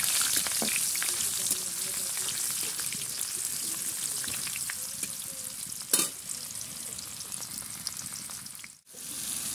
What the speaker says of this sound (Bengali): সেটা আমি তেলে দিয়ে একটু ভাজা ভাজা করে নেব